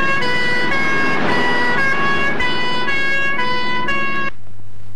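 A loud ambulance siren wails with strong harmonic tones pulsing in a steady repeating cycle for about four seconds, then cuts off abruptly, leaving a low hum; no one speaks.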